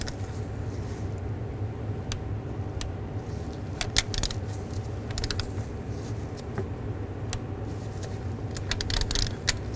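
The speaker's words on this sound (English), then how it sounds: "Now go back and torque these bolts to 8 foot-pounds." Torque wrench tightening valve cover bolts to 8 foot-pounds on a 2005-2015 Nissan Xterra, with scattered sharp metallic clicks and ratchet creaks over a low steady hum, no talking.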